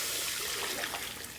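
Yeast starter liquid is poured back into a brewing pot, a brief, soft splashing trickle of liquid heard close up.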